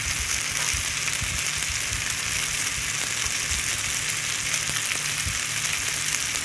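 Fried okra pieces being tossed with chili powder in a pan, giving a continuous dense sizzle with soft stirring scrapes, close and steady, with no voices.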